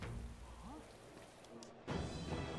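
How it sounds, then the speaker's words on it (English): Steady rainfall hisses through a stormy scene in the fantasy video game Metaphor: ReFantazio, a faint continuous wash that swells louder near the end, with no voices. "Oh, I hate the rain."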